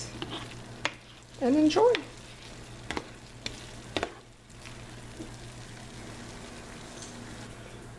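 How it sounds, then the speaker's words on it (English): Flour tortillas heat and sizzle in a pan in a home kitchen, a steady faint frying hiss broken by a few sharp clacks and handling sounds, with a short spoken phrase early on. "All we have to do are heat up our flour tortillas"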